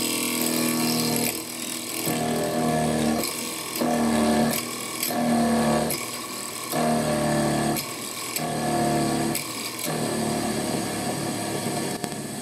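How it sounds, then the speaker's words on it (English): Drill boring through metal stock for a machinist's jack screw, pecking in repeated bursts of grinding, cutting noise with brief pauses between, close and steady throughout. "I reduced the pressure as the drill was re-establishing the hole after the halfway gap, and pecked a few times to make sure the hole started cleanly."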